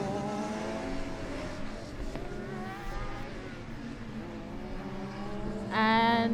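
Race cars on a circuit in the closing laps of an endurance race with driver changes, engines droning and rising in pitch as they pass, one louder car sweeping close near the end.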